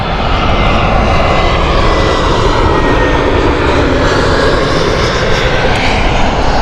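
A Lufthansa Airbus A320neo jet at Heathrow, on the Munich flight, roars loudly and steadily close by, a continuous broadband engine rumble with no pauses.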